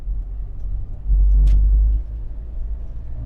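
A 1997 Toyota Land Cruiser Prado Series 95 climbs uphill in third gear, its engine a steady low rumble heard from inside that swells for about a second before settling back.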